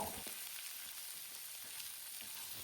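Onions seasoned with a teaspoon of salt sauté in a hot pan, giving a steady, close, continuous sizzle with faint stirring scrapes throughout and no voices.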